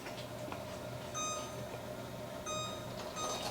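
A kitchen timer beeps in two short bursts of rapid high electronic tones over a steady kitchen hum, with no talking.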